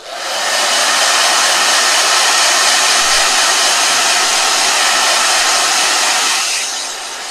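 A hair blow dryer is used to dry a watercolor painting. It roars loudly and steadily for several seconds with no talking, then fades slightly as it winds down.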